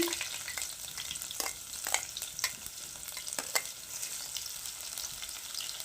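A medium-sized onion fries in a pan for a cucumber pickle, a steady sizzle with a brief hiss at the start and repeated scraping stirs of a spoon throughout.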